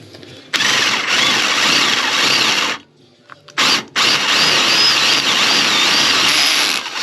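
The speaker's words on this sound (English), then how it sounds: "I'm going to do a pilot hole and work my way up, because obviously we're drilling into chrome and it's a bit slippery." A power drill bores a pilot hole into a chrome part of a Royal Enfield Bobber motorcycle, a loud high whirring grind that runs steadily, cuts out briefly, blips, then resumes.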